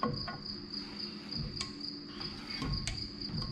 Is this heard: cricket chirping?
yes